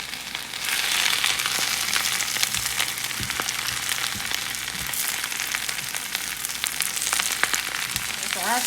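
Spinach and onions cook down in a hot pan with a steady, close sizzle and occasional soft stirring clicks throughout.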